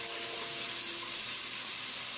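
Minced shallot and ginger fry in hot oil for a Vietnamese chicken curry, giving a steady, close, even sizzle with no breaks and no voices.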